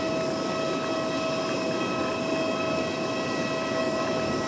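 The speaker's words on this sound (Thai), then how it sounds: "เสียงเครื่องบินอยู่ใกล้แล้วเสียงมันดัง" An airplane sits close by at Roi-Et Airport in Thailand, producing a loud, steady engine roar and high whine that stays constant throughout with no pauses.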